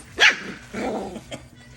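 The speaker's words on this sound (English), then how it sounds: "Are you growling at me, huh?" A seven-week-old puppy gives a brief high yip, then a low rumbling growl, close by, with a faint squeak after.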